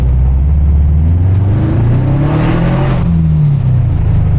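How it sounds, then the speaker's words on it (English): A Subaru with a replaced turbocharger accelerates hard in Sport Sharp mode, its engine note climbing loud and close as boost builds, heard from inside the car with no speech. "I'm in sport. I wanna go into sport sharp. I just wanna give it a little bit of beans. Let's see if she gets in a boost"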